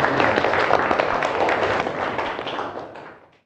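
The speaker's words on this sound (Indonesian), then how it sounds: "Tepuk tangan" A classroom of students claps together for about three seconds, a dense burst of applause that stays steady and then fades away at the end.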